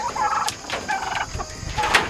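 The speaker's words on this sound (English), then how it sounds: "so we have 2 turkeys in here" Turkeys on a farm gobble in short, warbling calls that come close together and sound near and fairly loud over a rustling pen background.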